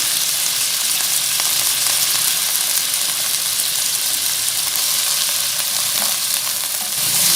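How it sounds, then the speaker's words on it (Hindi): Steady, loud sizzling of mutton frying with ginger garlic paste in a hot pan, a continuous hissing crackle close by with occasional stirring, no voices. "अब इसे मज़ीद अदरक लहसुन के साथ 2 मिनट तक फ्राई करें।"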